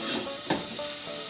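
Bacon frying in a pan as its fat renders, a continuous close sizzle with a brief louder pop partway through, no talk.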